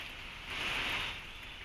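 Steady rain falling in Chamoli, Uttarakhand, a continuous hiss of drops on surfaces that swells slightly midway, fairly faint and with no voices.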